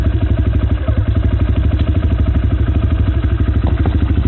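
A motorcycle engine runs close and loud, a steady rapid chugging idle with a rhythmic mechanical clatter throughout and no talking.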